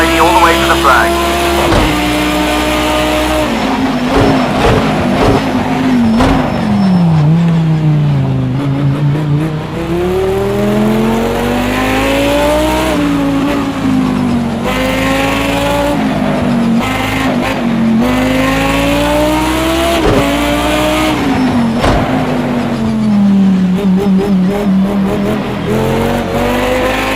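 A Lamborghini Super Trofeo race car in Project Cars 2, racing the Nürburgring GP circuit in the rain, revs loudly and continuously, its engine pitch climbing through the gears and dropping under braking, with a voice talking intermittently over it.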